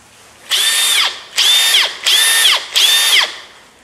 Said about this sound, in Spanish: Taladro, rotomartillo, 21 niveles de torque, broquero de media